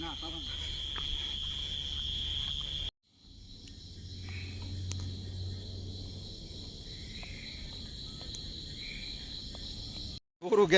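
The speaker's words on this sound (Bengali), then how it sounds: "এই দেখেন ঝিঝি পোকার আওয়াজ" Crickets chirp at night in a village, a steady high-pitched trill close by with a fainter insect chorus behind it and a brief break partway through.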